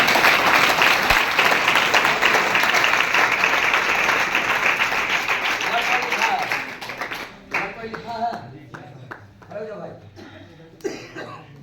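Audience applause fills a classroom motivational lecture, a dense sustained wash of clapping for about seven seconds before thinning into scattered claps and coughs.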